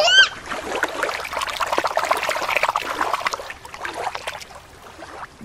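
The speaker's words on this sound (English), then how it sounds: "Let's put the sperm whale back in the water." A toy sperm whale is dropped back into water with a brief splash, followed by steady trickling and dribbling as water runs off and settles; close and moderately loud, with no talking.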